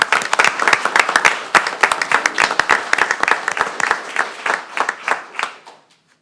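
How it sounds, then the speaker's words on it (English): An audience at a city council meeting in Friendswood applauds public safety staff. Sharp, distinct claps come at a brisk, uneven rhythm, then thin out and fade away near the end. "So how about a round of applause for our public safety?"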